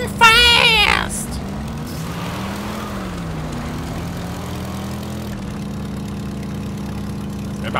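A vehicle engine drones steadily while driving in the heavy-metal action game Brütal Legend, opening with a sharp rising rev burst, then settling into a continuous hum that wavers slightly in pitch.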